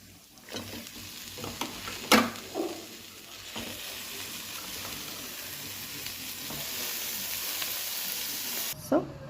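Spinach and meal maker (soy chunks) being stirred in a frying pan, with a steady sizzle under repeated scraping strokes of a spoon, a few sharper clanks standing out, close and moderately loud.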